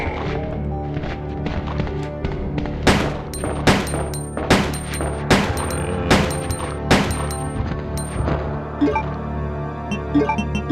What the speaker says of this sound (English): While not the strongest gun, it certainly fires a lot and very fast.